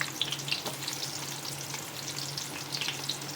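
Onion frying in hot oil with cinnamon pieces, a quiet steady sizzle with small scattered pops and crackles and a faint low hum underneath, no voices.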